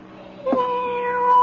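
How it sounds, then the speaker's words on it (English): A single cat meow, drawn out and rising in pitch, fairly close and clear against a quiet background. "All that meowing."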